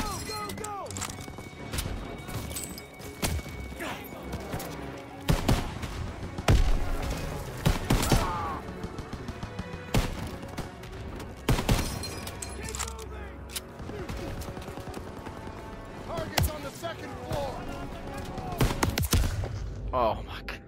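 Machine guns firing from a barn in Call of Duty WW2 keep up loud, sharp bursts and scattered shots throughout, with shouted voices mixed in among the gunfire.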